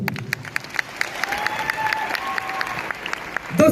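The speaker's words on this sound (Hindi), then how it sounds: "मैं चाहूंगा ये महान गुरु के ऊपर ताली होना चाहिए।" A seated crowd at a Talkatora Stadium speech applauding, sharp rhythmic claps over a steady roar of hands, rising toward the end, with a voice briefly over it.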